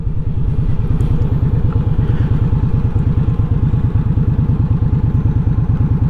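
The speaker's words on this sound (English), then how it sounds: "Now, I do like this bike that I'm riding." A motorcycle engine runs during riding, its rapid, even pulsing thrum close and loud, holding steady throughout with no talk over it.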